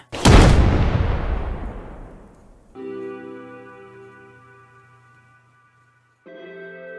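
A powerful explosion set off by a creature's death erupts loud and near, its roaring blast decaying over a couple of seconds before sustained tonal music takes over.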